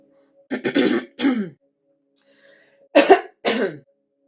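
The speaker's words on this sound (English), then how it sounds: "as I'm coughing and choking up the throat chakra yet again" Someone coughs and clears their throat in two separate bursts, a cluster of rough hacks followed after a short pause by two more harsh throat-clearing coughs, close and alone with no talk.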